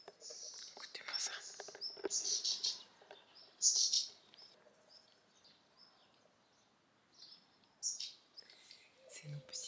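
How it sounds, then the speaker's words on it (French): Small birds chirp and tweet outdoors in short, scattered bursts, fairly close, with quiet breathy stretches between calls. "Les petits oiseaux qui chantent."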